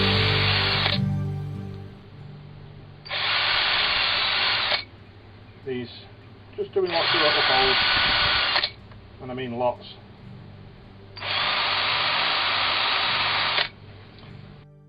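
A small power drill fitted with a 1.5mm bit bores holes into oak, the motor whining in three steady bursts of a few seconds each, separated by softer clicks and handling noise, with a voice speaking during the pauses.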